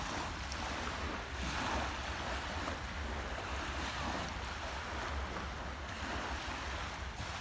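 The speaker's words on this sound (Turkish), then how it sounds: "Sessizliğin sesi değil, denizin sesi." Sea waves along the Çeşmealtı shore, a continuous soft wash of surf with gentle swells and some wind rumble, fairly faint and steady throughout.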